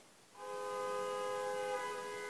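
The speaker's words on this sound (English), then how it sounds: "Sorry if you can hear the car honking outside." A car horn honks outside in a long, steady blast with a multi-tone chord, fairly faint and distant-sounding, with no talking over it.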